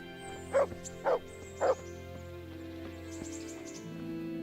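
A dog in the video game Kingdom Come: Deliverance gives three quick, evenly spaced barks, close and clear over a soft steady ambient hum.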